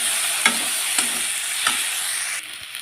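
Chicken scraps with green chillies frying in a pan, a loud bright sizzle with three spoon scrapes at regular intervals, close up, before the hiss drops off sharply near the end.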